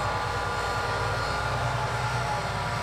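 The 12.5-litre MAN six-cylinder engine of a Claas Lexion 8900 combine runs steadily at low revs, a loud, continuous droning rumble with no break.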